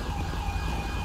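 An ambulance siren in the video game GTA 5, a steady electronic wail with strong tonal lines over road noise, brief and continuous.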